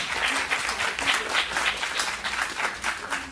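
Audience applause at a poetry competition event, steady rhythmic clapping from a crowd with a pulsing, slightly uneven cadence throughout.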